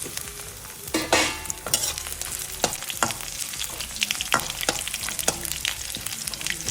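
Crushed garlic, a dried red chilli and tempering seeds sizzle and crackle in hot oil for a quick raw mango chutney, a steady close frying hiss broken by sharp stirring scrapes, with no talk.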